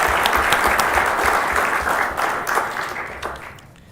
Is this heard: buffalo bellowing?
no